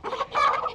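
Mini meat-type pale white-tailed hens clucking close by in a short burst of soft, throaty calls while dust-bathing, with no talk.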